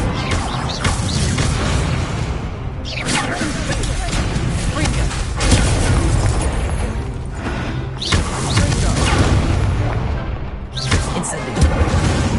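Repeated fire spell casts from Hogwarts Legacy, loud bursty booming whooshes recurring every couple of seconds, with shouting voices over and between them.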